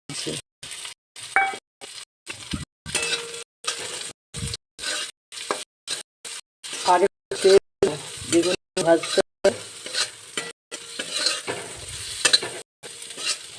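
Onions and potatoes fry in a pan with a crackling sizzle and repeated stirring scrapes, cut into short bursts by frequent gaps throughout.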